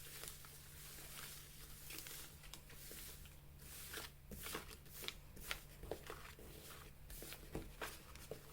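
Tarot cards shuffled by hand in a continuous soft papery patter with brief riffling bursts, close and fairly quiet over a steady low hum, no talking.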